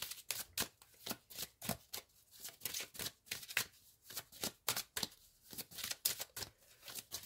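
Tarot cards are shuffled and drawn close by, with a quick run of crisp riffling snaps and soft slaps repeating steadily for several seconds without any voice.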